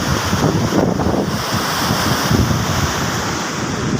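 Rough sea waves driven by the southwest monsoon crash and wash continuously, mixed with heavy wind buffeting the microphone; no voices.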